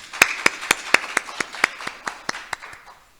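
A small audience at an academic conference on Jeju regional studies claps to welcome a keynote speaker: crisp, evenly paced claps, a dozen or so in quick succession, that fade gradually over about three seconds.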